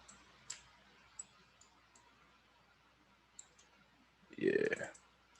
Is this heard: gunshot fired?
no